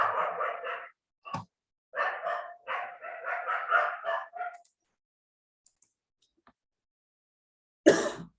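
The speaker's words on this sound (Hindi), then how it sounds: "थोड़ा कुत्ते जो है शोर कर रहे हैं" Dogs barking nearby in a series of sharp, repeated barks grouped in bursts over several seconds, then a pause of near silence before one final loud bark.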